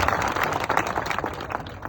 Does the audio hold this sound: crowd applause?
yes